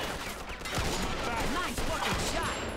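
Rapid bursts of gunfire in a video game, loud and dense, with overlapping shots and echoing cracks over roughly three seconds, no talk over it.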